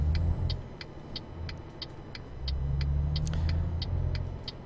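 A Volvo FH truck in Euro Truck Simulator 2 cruises with a steady low engine drone that swells partway through, while a regular ticking indicator clicks over it.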